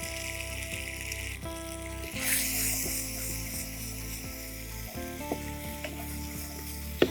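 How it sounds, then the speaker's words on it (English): Cherry tomatoes and Italian black olives sizzle and fry in a one-pot penne pasta pot, a steady close crackling hiss with stirring clatter and a couple of sharper pops as ingredients drop in. "I'm just going to add a bit of cherry tomatoes to this"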